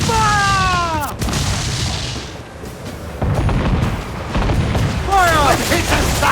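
Heavy ship cannon broadsides boom in a naval battle in Assassin's Creed 4: Black Flag, deep rumbling blasts rolling under the constant roar of wind and sea, with whistling shots and shouting crew voices.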